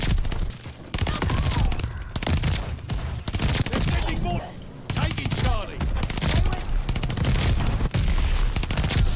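AS-44 assault rifle fire in Call of Duty: Vanguard, loud rapid bursts and sustained volleys with near-continuous gunfire, brief pauses and layered battle noise throughout.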